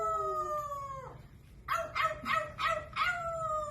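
A pet imitates a dog howling: a long sustained howl that breaks off, then a string of four short, yelping howl bursts. The sound is close and loud, with no talk over it.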